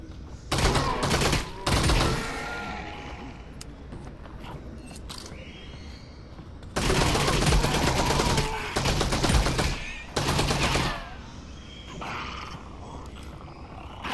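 Bursts of gunfire in the virtual reality game Half-Life: Alyx ring out in loud volleys, separated by quieter gaps of ambient game noise.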